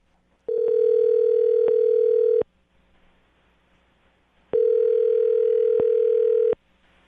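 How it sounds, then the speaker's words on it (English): Two steady telephone dial tones, each lasting about two seconds with a short gap between them, sound loud and clear while a call is being placed to a listener. There is no talking. "Adam, I'm about to get her on the phone and find out if the cat allergy is real"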